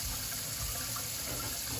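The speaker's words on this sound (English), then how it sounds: "I give it a quick rinse. Put it in the real hot water." Hot tap water pours steadily into a kitchen sink while dishes are rinsed, a soft continuous splashing rush heard close up with no talking.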